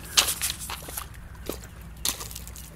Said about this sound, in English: Now let's walk this way for a little ways